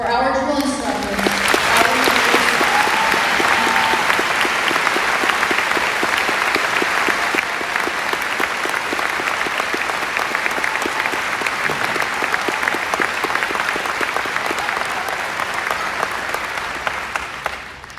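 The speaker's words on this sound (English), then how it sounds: "join me in a round of applause for our drill instructors" A large crowd at a Marine Corps ceremony applauds loudly and steadily for drill instructors, sustained clapping that carries on for a long stretch before slowly easing off.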